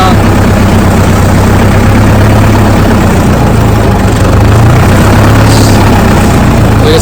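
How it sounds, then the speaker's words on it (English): The diesel engine of a Case 580CK backhoe idles loud and close, a deep steady rumble with a slightly uneven idle throughout. "Alright, idle it down."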